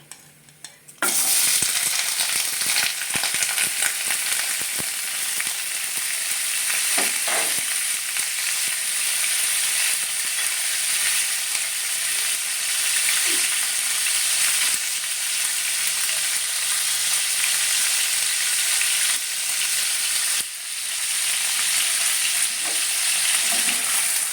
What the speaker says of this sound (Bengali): মশলাটা হয়ে গেছে এবার আমি আস্তে আস্তে পনিরগুলো ওর মধ্যে